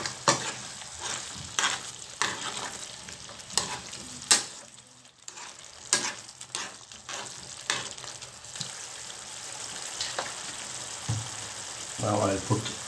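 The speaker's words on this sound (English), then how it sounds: "And now we'll add a tablespoon of tomato paste. Now I'm going to add the meatballs." Meatballs fry in a pan with a spoonful of tomato paste, giving steady sizzling broken by repeated stirring scrapes and clatters, close and moderately loud, with a few brief bursts of running water near the end.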